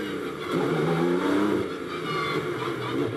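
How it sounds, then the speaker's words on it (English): A GT race car at Misano accelerates in the pit lane, its engine note climbing steadily through the revs, loud and fairly close, with no talking over it. "listen to the car accelerate after the 50k board"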